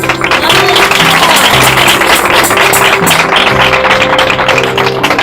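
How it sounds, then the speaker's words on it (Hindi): Congregation applauding loudly during a Hindi-language church service: dense, close clapping that carries on throughout, over sustained keyboard music tones. "ये ताली मेरे लिए नहीं है।"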